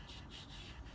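Pencil eraser rubs across paper on a drawing of a car, a short close scrubbing with a couple of quick strokes.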